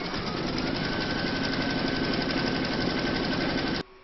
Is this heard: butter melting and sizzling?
no